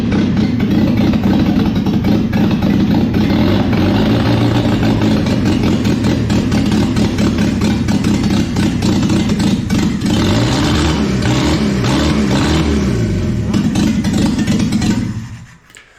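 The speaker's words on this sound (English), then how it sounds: "What a pleasure to hear that engine roar back to life." A Land Rover Series 2 2.25-litre four-cylinder engine runs steadily with a throbbing, slightly rough idle for most of the clip, then abruptly cuts off near the end.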